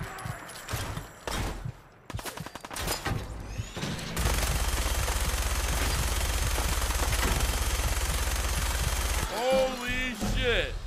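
Sustained machine gun fire in Fallout 4, a loud rapid continuous burst lasting several seconds after a few scattered earlier shots, with a voice talking before and after.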